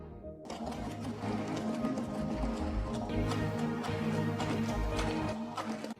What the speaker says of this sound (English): still going to use the mixer for the cocoa because cocoa takes a bit longer to dissolve